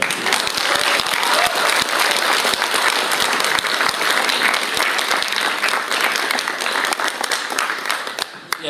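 Sustained audience applause at a regional awards ceremony for the Mazowieckie Voivodeship Marshal's Prizes, a dense, steady wash of many hands clapping that holds at full strength before thinning slightly at the end.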